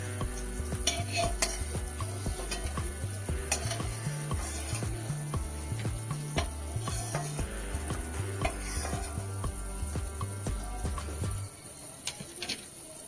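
Ivy gourd (kundru) frying in a pan with the heat off, giving a constant loud sizzle and stirring scrapes before the frying noise drops away near the end.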